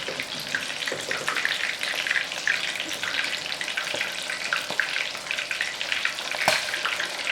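Shrimp for bang bang shrimp frying in a pot that was not preheated and sticking to the bottom; a continuous, close bubbling sizzle with scattered crackles and a few sharp pops.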